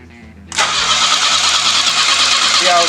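A 1969 Volvo engine, its fuel pump and carburetor just fixed, cranks and catches after half a second, then runs loud and steady at a rough, fast idle close by.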